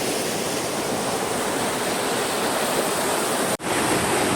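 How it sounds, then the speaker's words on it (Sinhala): Water rushes along both sides below, a loud, dense, unbroken roar with one brief dropout near the end. "මෙතන පල්ලෙහා දෙපැත්තෙම වතුර යනවා ගලාගෙන"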